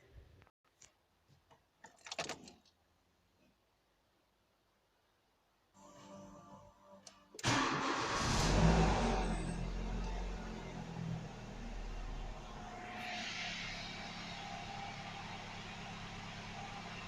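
A Renault Laguna 1.6 car engine cranks and fires up after an oil change, then settles into a loud, steady idle close by, following a quiet stretch with a few clanks.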